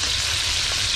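Chicken wings fry steadily in a pan as their fat renders out, a close, continuous bright sizzle with no talking, lasting about a second.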